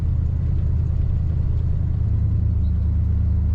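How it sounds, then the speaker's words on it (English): Steady deep exhaust rumble from a 1962 Chevrolet Impala two-door hardtop while driving, a continuous low drone held at even loudness throughout with no talk over it. "Nice rumble to this Impala's exhaust."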